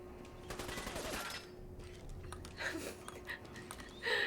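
Rapid bursts of gunfire from a fast-firing gun in Fallout 4, moderately loud with a dense crackle early on, then scattered shots and clicks over game ambience.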